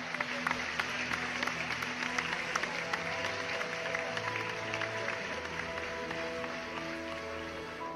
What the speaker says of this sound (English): We then see Paul get up on stage,